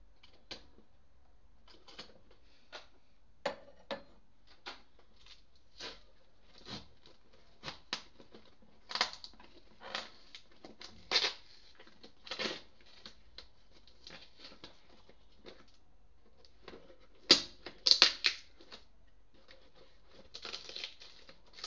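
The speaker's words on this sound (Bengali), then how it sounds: "ছুরি দিয়ে আমি এটাকে ফুটো করব, ফুটো না, এখান থেকে আমি কেটে ফেলবো।" A knife cuts open a cardboard box, making scattered scraping, creaking and crinkling sounds in short irregular bursts, close and fairly quiet.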